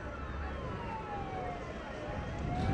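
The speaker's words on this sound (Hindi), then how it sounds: "जाम में एम्बुलेंस भी फंस गया, जिसे पुलिस ने बड़ी ही मुश्किल से निकाला है।" An ambulance siren wailing in a traffic jam, its pitch gliding down and up at moderate distance over a rumble of surrounding traffic.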